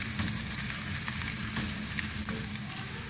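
Ginger fries lightly in hot oil for mash daal, giving a steady, even sizzle with small crackles and pops throughout, close and moderately quiet, no voices.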